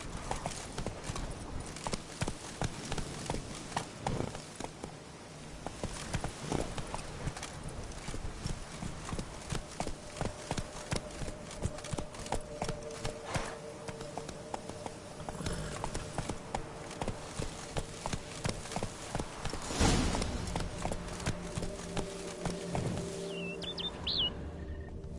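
Roach, a horse in The Witcher 3, gallops in a long steady stream of rapid hoofbeats, close and continuous, with faint birdsong chirping in the background.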